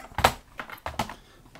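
Keys clack on an old, large Apple computer keyboard, several separate sharp taps in an uneven rhythm, close and fairly quiet with no talking.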